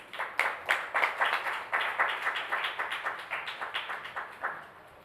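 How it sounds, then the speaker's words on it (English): Thin, scattered applause from a small audience after a talk on a constitution, a handful of people clapping in a loose, uneven rhythm that tapers off within a few seconds. "I would like to apologize to you for the very anemic applause"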